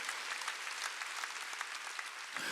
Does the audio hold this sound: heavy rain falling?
no